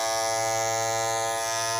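Andis Masters cordless hair clipper with a loose part pressing weakly on the blade, running with a loud, steady, rattling electric buzz and excess vibration. Close and continuous, with no speech.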